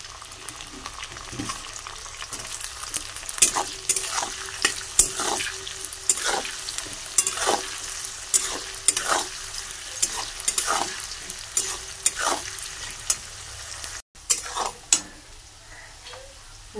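Vegetables with capsicum sizzle and crackle in a hot pan for fried rice while a spatula scrapes and stirs in quick, regular strokes, close and fairly loud.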